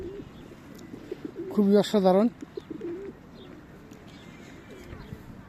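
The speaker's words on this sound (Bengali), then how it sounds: "দেখতে পাচ্ছেন যে কবুতরগুলা কিভাবে দেখেন আমার কাছে চলে আসছে" Pigeons cooing close by in a park in Italy, a short burst of throaty coos rising over quiet outdoor ambience, with a person speaking briefly nearby.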